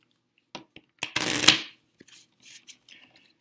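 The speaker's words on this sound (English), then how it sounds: "So I'll shuffle these fairly." A deck of playing cards holding only ace through ten is shuffled in close, short riffling bursts, with a longer dense riffle in the middle, then scattered light taps and slides, all without talk.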